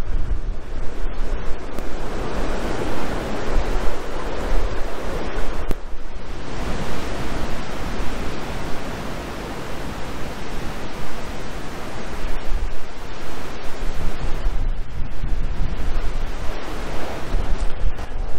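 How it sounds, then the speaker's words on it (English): Heavy ocean waves crash and roar in loud, broad surges with spray, one after another, at Land's End near the MV RMS Mulheim shipwreck, mixed with gusty wind buffeting the microphone. "There's some huge waves coming, there's a lot of spray"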